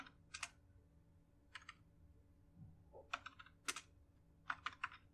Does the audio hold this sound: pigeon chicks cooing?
no